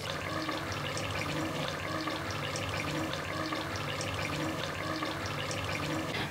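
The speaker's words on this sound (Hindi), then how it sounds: "अब हम इसमें पानी डाल लेते हैं हस्बे ज़रूरत।" Water pours steadily into a cooking pot while chicken salan, a chicken gravy with large chillies, is being made. It is a continuous rushing splash lasting several seconds, close by, with no talking.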